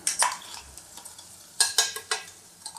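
Onion and ground masala paste being stirred and sautéed in a pan for a Maharashtrian val bean pod dish, with a soft sizzle broken by sharp metal spatula scrapes and clinks in irregular bursts, close up.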